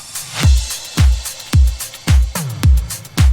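Soloed electronic drums from an electro remix, with punchy booming kicks and open hi-hats in a steady driving pattern, loud and close with no other instruments.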